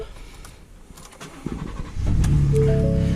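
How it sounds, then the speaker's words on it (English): A 2019 Ford F-150 Raptor, raised on jack stands, cranks and starts, its engine catching into a loud steady idle after some quieter clicks and movement. "I'm going to go ahead and start the vehicle."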